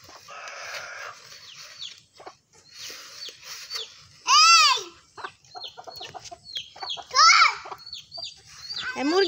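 A chicken clucks near a household yard, sharp squawks and short clucks breaking out among softer rustling, with a person's voice talking briefly in between.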